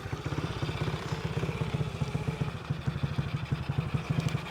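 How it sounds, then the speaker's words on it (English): A Tao Tao 110 Chinese four-wheeler, bought for $25 and missing its brakes, idles steadily with a close, rapid low putter and a faint mechanical clatter running throughout, with no talk over it. "But it's sitting here idling."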